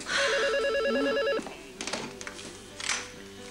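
A telephone rings loudly and close by, a warbling electronic trill lasting over a second, followed by clattering handling noises as the receiver is picked up.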